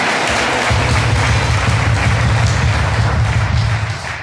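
Church congregation at a Sunday service claps steadily, a loud, even wash of applause with a low hum underneath, fading slightly at the close.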